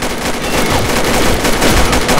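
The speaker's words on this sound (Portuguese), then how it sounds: "3 caras atirando em mim, mano" Loud, sustained automatic gunfire rattles nonstop through a shooting video game round, rapid overlapping shots from several attackers at close range.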